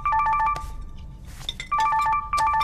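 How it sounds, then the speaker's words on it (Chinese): A phone ringtone plays a bright, repeating electronic melody in loud bursts, pausing briefly in the middle before resuming, in an indoor scene from a Chinese TV drama. "接着电话。"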